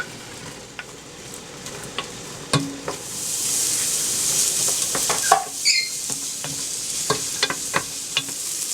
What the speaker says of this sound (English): now we're going to throw our onion in, and we're going to cook it till it's tender